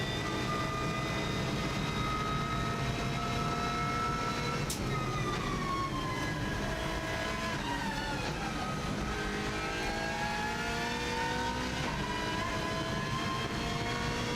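A Subaru WRX STI rally car runs flat out at about 170 on the Isle of Man TT course, its engine a loud, sustained high-pitched whine with shifting harmonics and a brief sharp transient partway through, with no speech.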